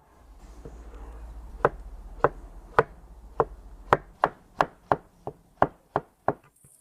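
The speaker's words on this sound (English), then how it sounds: "Now we'll start slicing." A knife chops food on a cutting board while shawarma salad is prepared, about a dozen sharp, close knocks that start spaced out and then come quicker and steadier, with no talk.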